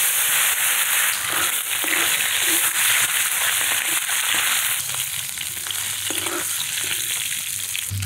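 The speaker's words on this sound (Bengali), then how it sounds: "শুকনো লঙ্কা তুলে নিয়েছি, এখন মাছ দিয়ে দিই।" Baim river eel fish frying in mustard oil in a wok, a loud steady sizzle and crackle running throughout with occasional stirring scrapes, no talking.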